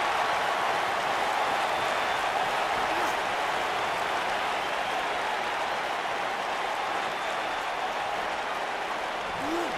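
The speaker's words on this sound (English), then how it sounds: "I don't remember the last time I heard a more passionate crowd than the one we have here tonight" An arena crowd in the WWE 2K19 wrestling game roars and cheers continuously, a dense, even wash of applause and noise at steady loudness throughout.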